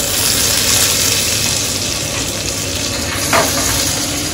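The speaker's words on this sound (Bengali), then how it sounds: "তেলের মধ্যে কতগুলো গোটা জিরে ফোড়ন দিলাম" Whole cumin seeds and two dried red chillies sizzle steadily in hot oil in a Bengali fish-roe kalia preparation, a loud, continuous close-up hiss with a brief sharper spatter near the end, with no talking.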